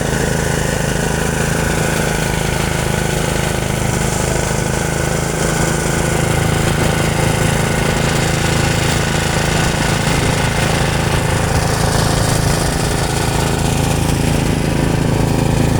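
A rice threshing machine runs continuously, close and loud, with a steady rattling engine drone and mechanical clatter throughout and no talking.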